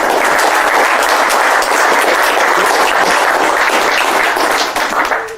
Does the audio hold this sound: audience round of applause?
yes